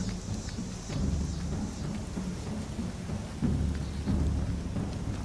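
Steady rain falls while low rumbles of thunder roll in and out, swelling a couple of times, with no voices, in the video game Skyrim.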